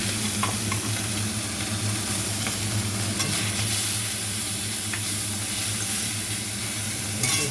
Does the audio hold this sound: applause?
no